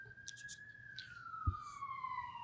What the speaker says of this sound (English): let's let the ambulance pass.